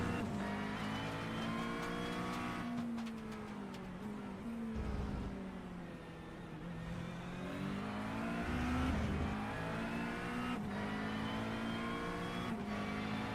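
A GT3 race car in iRacing brakes hard into a corner at Le Mans, the engine note dropping and rising through downshifts, with faint tire noise, loud and continuous throughout.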